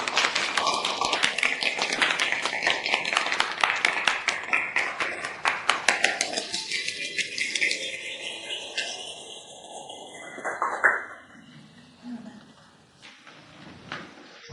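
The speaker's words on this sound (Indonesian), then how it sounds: "Kasih tepuk tangan." A group claps together in an indoor room after a call for a demonstration, a dense patter of hands with voices mixed in, fading after about ten seconds into quieter shuffling sounds.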